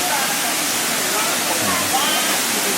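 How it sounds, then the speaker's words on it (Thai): A hot spring waterfall in Krabi gives a steady, dense rush of falling water that fills the scene evenly and does not change, with no break. "มาอัปเดตน้ำตกร้อนที่จังหวัดกระบี่กันนะครับ"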